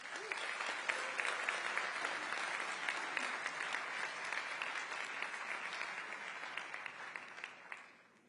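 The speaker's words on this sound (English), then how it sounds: "please give me a huge round of applause for the incredible Honor" A large audience applauds steadily at the reveal of the Honor Magic V6 smartphone, dense clapping from a big crowd that carries on for several seconds and fades out at the end.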